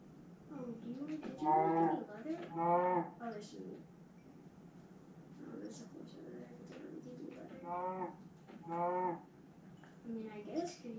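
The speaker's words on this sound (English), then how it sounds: "Oh, cows." Cows in the Minecraft video game, several low drawn-out moos repeating at intervals, fairly clear and close with some quieter game sounds between them.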